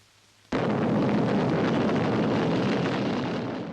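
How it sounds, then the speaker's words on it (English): Archive test footage of Britain's first hydrogen bomb exploding off Christmas Island: a sudden loud broadband blast erupts after a quiet moment and sustains as a dense roaring rumble that slowly fades. "off Christmas Island came a still more spectacular demonstration of military power, Britain's first hydrogen bomb."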